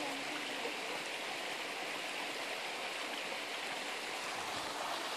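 Stream water flows steadily outdoors, a continuous broadband rush with no breaks, fairly faint and even throughout, with no voices over it.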